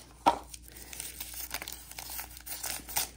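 Paper crinkles and tears in short bursts while a 1990s toy is unwrapped, close and dry, with a sharp rustle near the start and scattered handling noises after.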